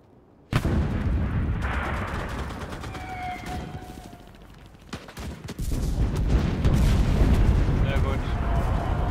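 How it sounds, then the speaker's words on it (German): Heavy artillery fire in the World War II shooter game Enlisted, rumbling broadband booms and blasts that build after a sharp onset and swell louder near the end, with speech-like game sounds mixed underneath. "Artillerie schießt schon."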